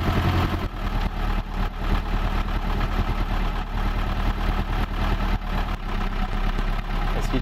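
An old 1990 Iveco Daily 35-8 diesel engine idles after an engine flush treatment, a steady, rough, shaking clatter with a low throbbing pulse, close and continuous.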